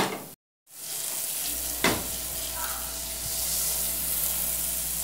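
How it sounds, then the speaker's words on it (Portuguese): Butter melting in a pan on the stove gives a steady, close, moderately loud sizzle that holds through the whole stretch, with one sharp clink of a utensil partway through and no talking. "Vou começar colocando um pouquinho de manteiga na panela"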